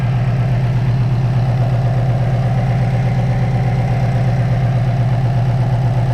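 A Ford Mustang GT350 idles steadily and evenly at close range with a low, constant thrum and no other sounds.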